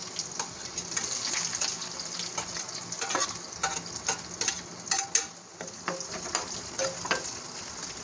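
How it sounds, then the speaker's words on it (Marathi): Green chili and finely chopped onion frying in oil for a cluster bean curry, a steady close sizzle with bursts of crackle and stirring scrapes throughout, no talking. "कांदा आपण छान असं फ्राय करून घेऊया"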